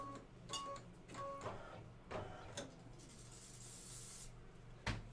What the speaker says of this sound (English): Give it a little shot of spray to the back.